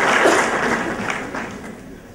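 An audience at a college building inauguration claps together, a close burst of dense applause that fades over about two seconds.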